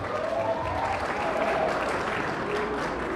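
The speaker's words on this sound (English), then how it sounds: "Give our Lieutenant Governor one more round of applause" A campaign-event audience applauds the Lieutenant Governor, a dense steady wash of clapping and crowd noise that continues throughout.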